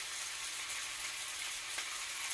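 Shaoxing rice cooking wine hits a hot pan of beef lo mein with a loud, continuous broadband sizzle that holds steady and close throughout, with no voices.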